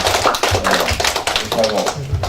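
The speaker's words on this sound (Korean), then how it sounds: "이 세 분에게 좀 큰 박수 좀 부탁합니다" Audience applause at a Korean policy seminar on welfare for the elderly: dense, close hand clapping that fills the whole moment, with a voice audible underneath.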